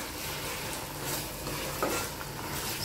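Prawns fry in a pan with a soft, steady sizzle and a faint utensil scrape partway through, heard close and quiet without speech.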